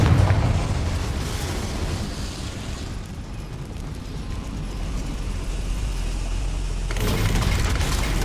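A Confringo spell explosion in the Hogwarts Legacy video game, set inside a goblin mine: a loud, rumbling blast that decays into a sustained roar, then swells again near the end.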